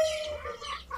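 Free-range native village chickens (ayam kampung) cluck in short, close bursts against a quiet outdoor background.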